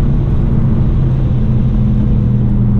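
Stage 2 APR-tuned VW MK7 GTI pulling hard out of a corner on a wet road, a steady loud engine drone with heavy low rumble throughout, heard from inside the car.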